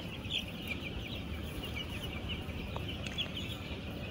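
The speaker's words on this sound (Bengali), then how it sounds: "এই যে এখানে আরেকটা মুরগি আছে" Chickens cluck steadily on a poultry farm, a continuous close chorus of hens with a few sharper calls standing out.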